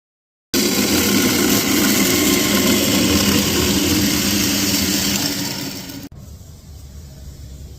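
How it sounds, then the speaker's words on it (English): Aluminium donuts being welded for an intercooler on a custom twin-turbo Cummins pipework build, with a loud continuous hissing arc that holds steady for several seconds, tapers, then cuts off, leaving faint shop background. "So just welding up some aluminium donuts now and get this intercooler sorted out."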